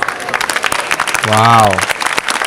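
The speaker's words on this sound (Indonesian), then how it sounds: "Weh, gemuruh tepukan tangan dia." An audience claps at a Raja Performance show featuring soldiers in military dress, with steady applause from a crowd. Voices exclaim over it, and one drawn-out shout rises in the middle.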